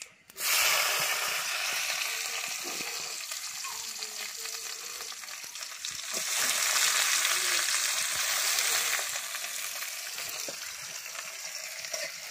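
Onion and garam masala frying in hot mustard oil, a loud, continuous close sizzle with stirring that swells midway and stays steady throughout, with no talk over it.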